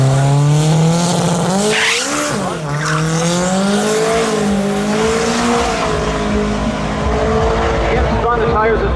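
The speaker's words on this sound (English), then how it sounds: "spun the tires a little bit down low" A compound-turbo Honda S2000 drag race car's engine roars loudly with rising and falling revs as tires squeal and skid, the sound steady and close throughout.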